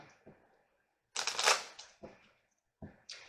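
A tarot card slid out of a deck and handled, with soft papery rustles and snaps in a few short separate bursts, quiet and close with brief silences between.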